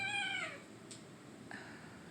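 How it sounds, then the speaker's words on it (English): Playfully fighting cats let out a clear drawn-out meow, then a shorter second meow after a pause, close and fairly quiet against a still background. "I'm watching my cats fight"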